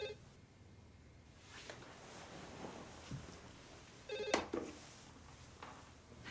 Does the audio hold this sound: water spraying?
no